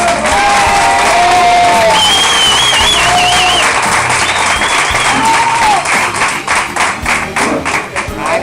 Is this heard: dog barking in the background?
no